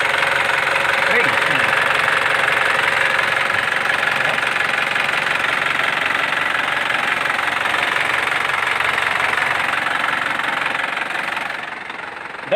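An Isuzu Panther LS car engine idles steadily and close by with a constant mechanical hum and faint ticking, fading slightly at the end.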